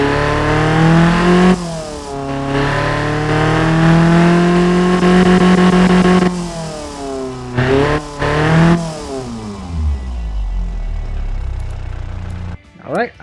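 Toyota 22R-E inline-four revving in the Automation car-building game: a loud engine note rises and falls in several long sweeps, with a break between them, then winds down to a low idle at the end.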